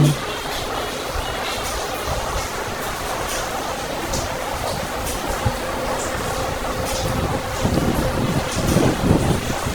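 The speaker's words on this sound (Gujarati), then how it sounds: "આપ જોઈ શકો છો થોડો થોડો વાયરો વધી રહ્યો છે" Gusty cyclone wind roars steadily across the microphone, a broad rushing noise that grows a little stronger toward the end.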